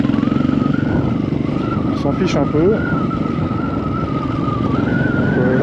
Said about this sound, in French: Là on est en moto